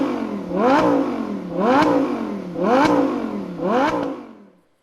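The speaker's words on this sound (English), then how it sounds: "now what you have here is a sound of our V10 engine" Lamborghini Huracán LP 610-4 V10 engine revving loudly four times in a steady rhythm, each sharp rising and falling roar close by, with no talk over it.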